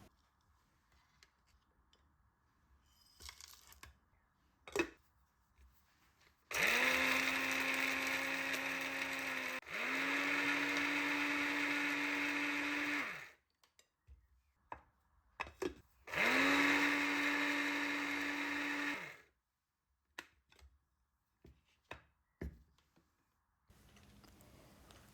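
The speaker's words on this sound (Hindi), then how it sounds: "आधे को दोबारा ग्राइंडर में पीस लेंगे और उसमें ऐड कर देंगे अपना गरम मसाला भी" An electric grinder whirs loudly in three long bursts while grinding spice masala with garam masala, separated by pauses filled with small clicks and knocks from handling the jar.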